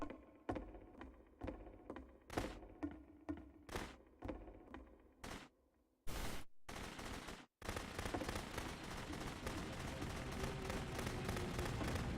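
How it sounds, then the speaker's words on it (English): Gunfire in the video game The Beginner's Guide: about ten sharp shots fire in an uneven rhythm, then loud sustained bursts and a long continuous roar of rapid fire, with no talking. "Remember, you can click to fire the gun."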